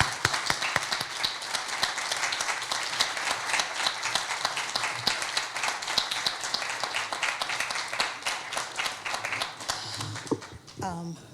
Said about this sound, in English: ask you give her a round of applause as she comes forward.